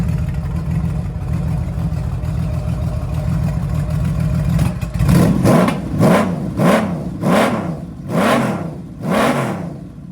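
A Honda Valkyrie motorcycle engine with swapped, mostly straight-through louvered-baffle exhaust pipes idles with a deep burble, then revs repeatedly in rising and falling bursts, loud and close, with no voices.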